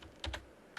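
Typing on a computer keyboard while lettering in AutoCAD: three quick, crisp key clicks, two close together and then one more a moment later, fairly close and quiet.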